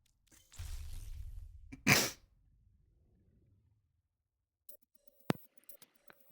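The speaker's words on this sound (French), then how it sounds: "vu que t'as pété dans le micro" A loud, low rumbling blast into the microphone, lasting about a second and a half, ending in a harsh burst, followed by quiet clicks and ticks.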